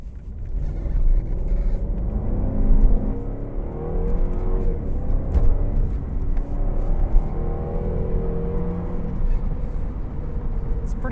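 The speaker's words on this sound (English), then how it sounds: "switch this over to sport while we do our full throttle run" A 2012 Jaguar XKR with a 510-horsepower supercharged V8 accelerates at full throttle in sport mode, a loud, continuous rising engine rumble heard from inside the car as revs climb and shift, with a voice speaking under it.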